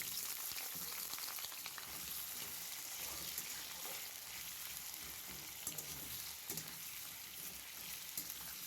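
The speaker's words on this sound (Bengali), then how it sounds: "এবার কড়াইতে সর্ষের তেল দিয়ে আমি আলুগুলোকে আগে ভেজে তুলে রাখব।" Long potato strips fry in mustard oil in a wok, giving a dense, steady crackling sizzle that runs unbroken throughout, close and unaccompanied by voices.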